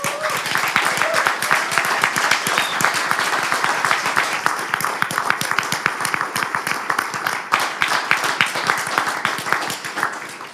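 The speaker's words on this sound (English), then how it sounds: "I would like to give a round of applause to all of you" Audience applause fills the room at an awards ceremony for a climate hackathon, a dense steady patter of many hands that carries on without a break for about ten seconds, with no clear voice above it.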